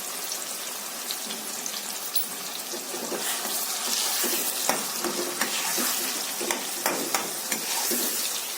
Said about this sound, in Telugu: ఈ యాపిల్ గుజ్జు తయారు చేసినటువంటి గ్రేట్ చేసినటువంటి గుజ్జుని మనం వేసేసుకుందాం ఒక్క నిమిషం పచ్చివాసన పోయేదాకా